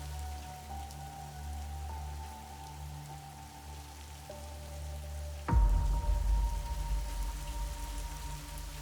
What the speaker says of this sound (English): The rain in these parts of the country can last for days.